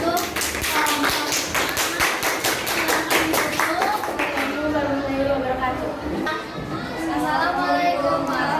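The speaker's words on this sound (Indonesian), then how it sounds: "Tepuk tangan untuk kelompok" A classroom group claps in quick, rhythmic unison for a presenting group, sharp close taps for several seconds that then fade into children's chatter and talking.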